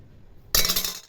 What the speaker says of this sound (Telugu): ఓకే అండి, ఇప్పుడు మూత పెట్టేసుకుందాము.